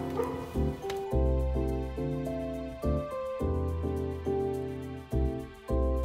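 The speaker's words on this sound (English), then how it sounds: "Oh, there's that dog again." A dog barks repeatedly near a spot outside, loud and close, with several sharp, tonal barks coming in uneven bursts across the whole stretch.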